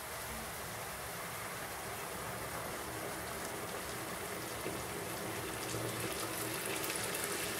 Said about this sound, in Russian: После того, как приправил, добавляю кипяченую воду.